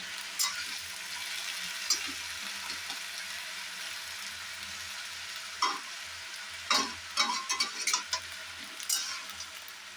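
Boiled potatoes are stirred in a frying pan over a low, steady sizzle, with scattered scrapes and clinks of the spatula that cluster more busily toward the end.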